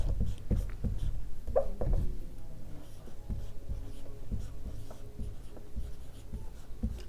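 Pen writing names on a paper world map marking gold mine locations in China, a steady run of close scratchy strokes and taps with no talk.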